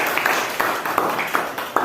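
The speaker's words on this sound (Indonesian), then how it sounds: "Tepuk tangan untuk kelompok 2." Classroom group claps briskly and fairly steadily for the second group during a teacher training session, a light, even patter with small sharp peaks.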